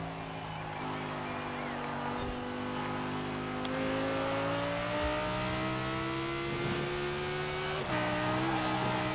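ItalDesign Zerouno supercar engine in Forza Horizon 4, a steady droning tone that climbs in pitch as it accelerates, shifts gear and climbs again, heard at a moderate, fairly quiet level with no talk.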